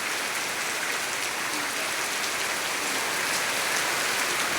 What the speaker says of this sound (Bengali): দেখেন কেমন বৃষ্টি, দেখেন প্রচুর বৃষ্টি হচ্ছে।